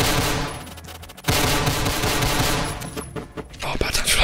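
Rapid pistol shots ring out in the Roblox shooter Phantom Forces, sharp cracks in quick bursts over dense game noise, loud and close, with a player speaking faintly in the background.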